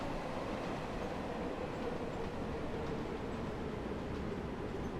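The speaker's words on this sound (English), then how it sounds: "We were probably letting this train through." A London Underground Bakerloo Line train passes in the Train Sim World 2 video game, heard as a steady, dense rumble of rolling wheels and motor noise at moderate distance, with no talk.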